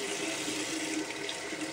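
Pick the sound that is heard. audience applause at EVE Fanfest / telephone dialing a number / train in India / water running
water running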